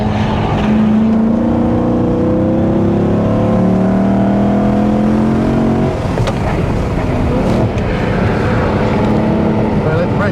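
A Dodge Charger driven hard around a race track, its engine roaring loudly with rising and falling revs through gear changes, heard from inside the car with voices talking over it.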